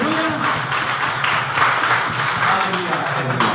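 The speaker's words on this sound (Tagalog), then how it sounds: "Ulitin po natin, palakpak po natin." A church congregation at a Sunday worship service claps together in praise, a steady mass of applause running throughout with voices and talk mixed in over it.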